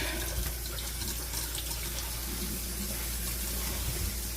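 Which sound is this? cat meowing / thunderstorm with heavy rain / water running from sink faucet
water running from sink faucet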